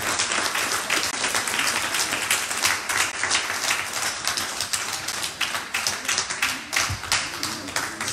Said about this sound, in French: On peut acclamer plus fort.